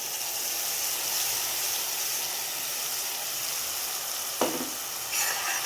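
Masala powder paste sizzling in hot oil for a South Indian fish curry, a steady broad hiss throughout with a brief scrape of stirring near the end.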